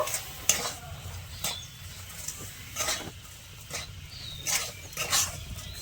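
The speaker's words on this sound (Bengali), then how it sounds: "ভালো করে নেড়েচেড়ে মিশিয়ে নেব" Gujiya filling of milk powder, sugar and semolina stirred in a pan with a little water, repeated close scraping and tapping strokes of a spoon over a soft sizzle.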